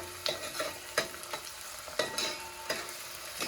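Onion and tomato stir-fried in a pan while cooking a Maharashtrian birda of field beans, with kokum to be added: spatula scrapes and stirring clatters repeat every half second over a steady sizzle, close and moderately loud.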